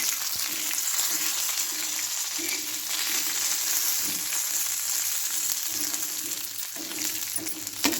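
Green chillies roasting for thecha in a pan, giving a steady crackling sizzle close by with periodic stirring scrapes and light knocks against the pan, no voices.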